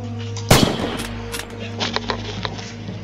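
A Kar 98 sniper rifle with scope fires once from a standing position in the video game Red Orchestra 2, a sharp loud crack that decays into a brief echoing tail, followed by fainter mechanical clicks.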